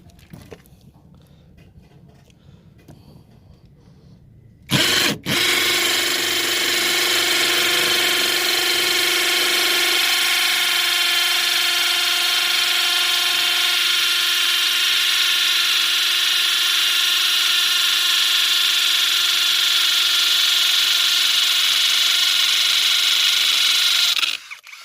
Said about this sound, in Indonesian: Jadi kalau hanya untuk mengebor dinding bata dan semen dengan campuran pasir itu sangat mudah sekali ya